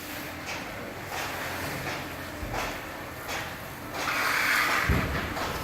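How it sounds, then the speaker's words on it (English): Muffled rumbling machinery with repeated hollow thumps and plastic clatter, steady and moderately loud, from a conveyor belt carrying plastic milk jugs. "That's the sound of a conveyor belt filled with plastic milk jugs"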